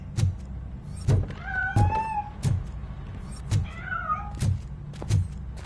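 A cat meows repeatedly in the RoboCop video game, with several short drawn-out calls spread among regular soft thuds, fairly close and clear, with no talk.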